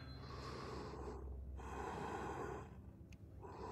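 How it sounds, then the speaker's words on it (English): Heavy, troubled breathing from a character in a Halloween horror video game, with ragged gasping inhales and snorting exhales repeating steadily, close and continuous over a dark ambient background, with no talk. "It sounds like you have trouble breathing."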